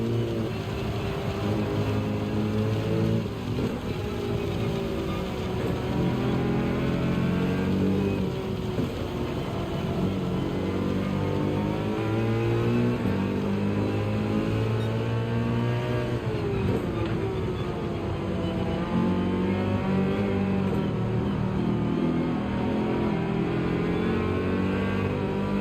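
A pack of race cars from Gran Turismo 7 at Dragon Trail Gardens drones steadily for the whole stretch, engines layering and shifting pitch as they accelerate and lift, close and loud with no talk.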